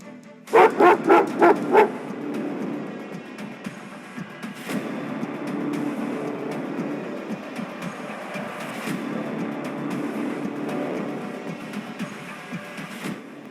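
Guard dogs watching a prized mango orchard in Jabalpur, Madhya Pradesh, let out a quick burst of five loud, close barks, followed by quieter open-air rustling and scattered knocks.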